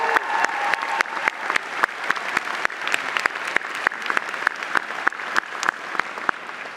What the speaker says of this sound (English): can you join me again with a round of applause for Professor Joe Demento